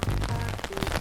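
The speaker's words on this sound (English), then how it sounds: "thus causing blood rain." Cartoon-style rain sound effect, a dense steady patter of falling drops filling the short moment without any speech.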